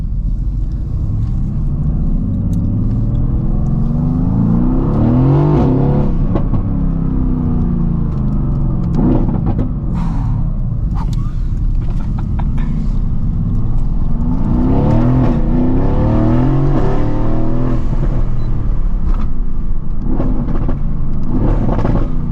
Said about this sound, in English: Just listen to those downshifts.